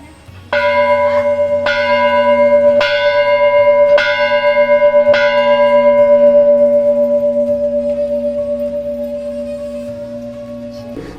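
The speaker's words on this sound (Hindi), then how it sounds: "उस घंटी को बजाते हैं" A large temple bell is struck five times at steady intervals, each ring booming and overlapping, then a long resonant hum fades slowly afterward.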